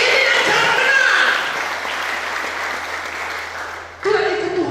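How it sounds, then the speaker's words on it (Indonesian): A church congregation breaks into applause during a sermon, a broad continuous roar of clapping with a voice over it at the start, easing slightly before a fresh louder burst near the end. "Tepuk tangan untuk ini yang cara benar."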